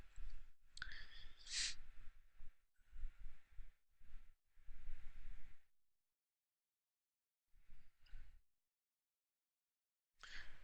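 Computer mouse buttons click in a few short scattered bursts while files are selected and opened in a WordPress media upload, faint and close, separated by stretches of silence.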